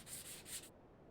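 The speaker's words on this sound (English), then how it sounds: "So I am really giving this a pretty good sanding" Hand sanding of scrap-wood black cat cutouts, a steady abrasive rubbing in two or three strokes that stops abruptly partway through, leaving near silence.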